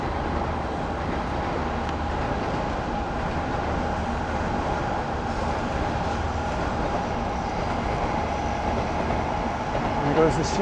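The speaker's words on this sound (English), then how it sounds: "This really rusty train line here is the" Tokyo monorail to Haneda Airport running along a rusty elevated line, a steady rumbling rail roar that fills the whole stretch at an even, fairly loud level with faint clatter.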